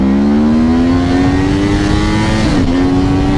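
Sport bike accelerating hard: a loud, close engine note climbing steadily in pitch, then a brief dip at a gear shift before it pulls on again, heard alone.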